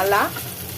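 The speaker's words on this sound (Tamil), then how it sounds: "இப்போ இது எல்லாத்தையும் நல்லா வறுத்து எடுத்துக்கலாம்" Ginger, garlic, green chilies and curry leaves fry in hot oil, a brief close sizzle with a quick stirring scrape at the start, then a steady crackle.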